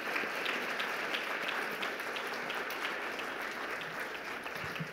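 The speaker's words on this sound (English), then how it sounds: "We're going to clap for the ancestral Jerry Longboat, our ghostly Jerry Longboat" Steady audience applause at a ceremonial performance honouring a dancer, a dense, even wash of clapping held at constant level throughout, with no voices standing out.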